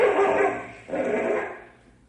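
A dog in a radio drama barks and yips excitedly while fighting a rattlesnake, with two loud, close bursts of barking separated by a brief pause and then fading out.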